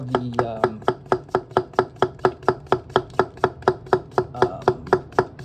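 A Niigata 210mm SLD steel gyuto knife chops on a board in a fast, even rhythm of about twenty crisp, close strikes, with no voices.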